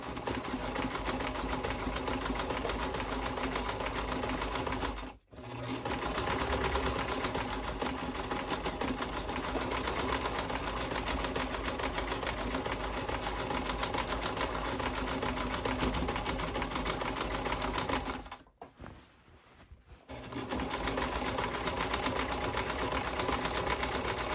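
Sewing machine running steadily while stitching along a drawn guideline on a tote bag seam, a slower stitch, with two brief pauses and no talking.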